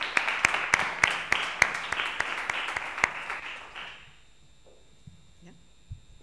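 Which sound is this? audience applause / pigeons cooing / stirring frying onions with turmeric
audience applause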